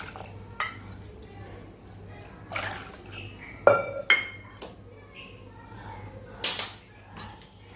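Water is added to a pressure cooker holding washed black-eyed beans, with scattered metallic clinks of the cooker and bowl and light drips and splashes in a quiet kitchen.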